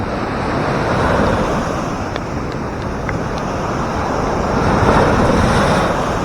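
Heavy surf from large waves ahead of Typhoon Bebinca in the Philippines rumbles continuously, swelling louder near the end, with wind noise hitting the microphone and no voices.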